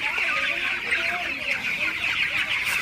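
A crowd of broiler chickens clucks and murmurs continuously, a busy overlapping chorus of close-up poultry noise.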